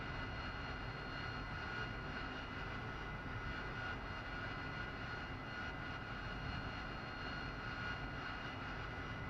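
Steady, even aircraft engine drone from an AV-8B Harrier II jet in the DCS flight simulator, held at a constant level throughout with no clear spool-down and no talking.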